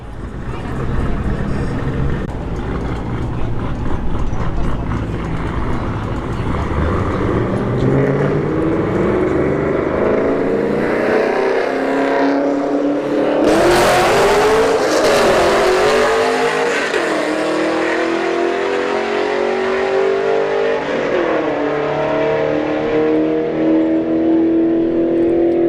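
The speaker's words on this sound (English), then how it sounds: "Fifth gen Camaro SS going solo here" A fifth gen Camaro SS making a solo drag racing pass at a motorsports park, its engine roaring loudly and climbing through gear changes as it launches and pulls away, with a commentator talking over it.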